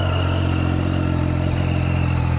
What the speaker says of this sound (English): I can't believe how good a stock exhaust sounds.